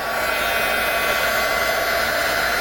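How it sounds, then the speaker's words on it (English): A heat gun melts black embossing powder on a stenciled craft tag, producing a loud, steady whooshing blower roar that holds unchanged throughout with no voices. "embossed and ready for the heat gun"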